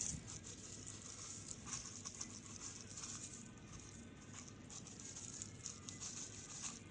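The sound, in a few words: sprinkling coriander seeds onto potting soil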